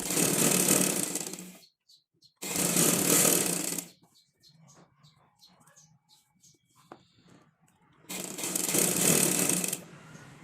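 Sewing machine stitching elastic onto a baby frock, three loud whirring bursts of rapid stitching separated by quiet gaps filled with faint handling clicks and rustles, close by.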